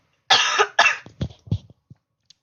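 Two sharp, loud coughs land right on a microphone during a Star Wars tabletop roleplaying session, followed by a few softer throaty sputters and breaths that trail off.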